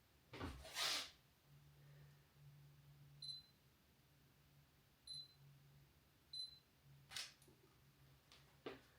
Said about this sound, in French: je suis en train de prendre les photos de ces stickers